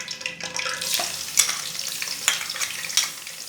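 Garlic paste frying in hot ghee in a kadai, a steady close sizzle with stirring scrapes and a few sharper clinks of a spoon against the pan.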